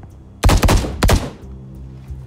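Three loud, close gunshots from a video game fire in quick succession, each with a sharp crack and short decay, followed by quieter game background sound.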